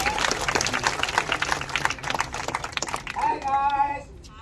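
Audience applause at a Kecak and fire dance show at Uluwatu Temple in Bali, a burst of crowd clapping with voices mixed in that thins out toward the end while a voice calls out over it.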